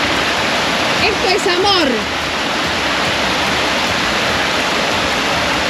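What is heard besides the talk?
small mountain waterfall flowing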